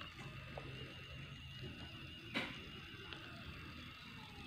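A tiny 1/64 scale RC truck's electric motor whirs steadily through heavily geared-down reduction gears, a faint continuous mechanical hum with light ratcheting clicks and one brief sharper tick midway, heard close and alone.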